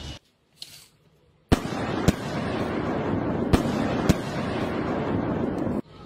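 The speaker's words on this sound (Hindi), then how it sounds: "अम्मी, बाहर पटाखे चल रहे हैं।" Firecrackers go off outdoors: several sharp, loud cracks punctuate a continuous crackling roar of bursts that runs for about four seconds, then cuts off abruptly.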